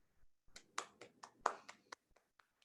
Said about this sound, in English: I'm clapping as if that's the end of the workout